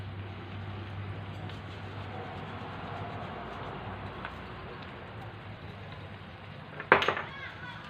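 Potatoes dropped into a pan of cooked onions, a sudden loud clattering thud and sizzling rattle near the end, after steady background hum and talk.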